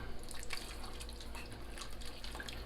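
Beef broth pours into a pot for one-pot goulash, a steady close liquid splash and trickle running through the whole stretch with no talk over it.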